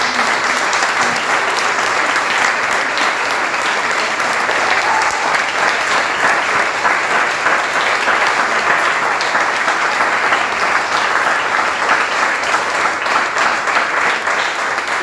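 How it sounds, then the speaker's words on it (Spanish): A church congregation claps steadily and densely for about fifteen seconds, a sustained, even wash of applause with no talking over it. "Creo que se merece un aplauso al Señor."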